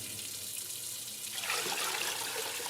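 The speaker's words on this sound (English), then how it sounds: "The faucet hissed to life, spilling warm water into the basin." A faucet runs warm water into a basin: a quiet hiss at first, then a fuller, louder splashing rush as the flow strikes the basin, steady with no voices.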